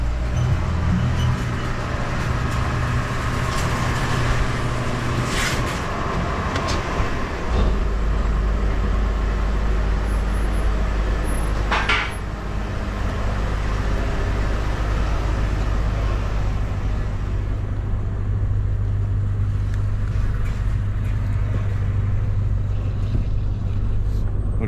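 A Chevrolet Trailblazer with new inner and outer tie rods and a fresh alignment on a road test drive, heard from inside as a steady engine drone and road rumble that continues throughout.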